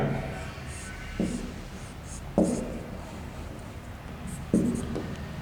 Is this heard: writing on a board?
yes